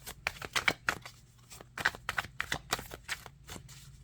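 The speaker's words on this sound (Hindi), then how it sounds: "यहाँ पे कार्ड्स जो हैं शफल नहीं हो पाते हैं, इसलिए मैं सिर्फ दूसरे वे में ही शफल कर पाती हूँ।" Tarot cards are shuffled by hand in quick, close riffling bursts of soft papery flicks and taps, with short gaps between passes and no talk.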